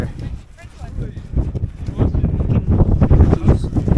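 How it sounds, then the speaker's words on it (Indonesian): Strong wind buffets the microphone on the Mount Rinjani summit trail, rumbling and gusting loudly up close and building over the seconds, with a voice faintly mixed in. "Anginnya kencang banget."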